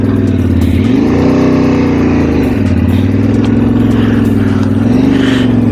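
2022 Yamaha Ténéré 700 motorcycle engine pulling away after the clutch is engaged, loud and close, its pitch rising and falling through repeated throttle surges.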